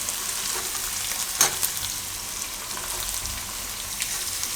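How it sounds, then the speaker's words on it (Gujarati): Chopped onions sizzle steadily in hot oil in a pan, a soft even crackle with a brief clink of a spoon stirring, no voices over it. "એકવાર તેલમાં એને મિક્સ કરી લેવાનું આપણે હવે ડુંગળી નાખી દઈશું આપણે"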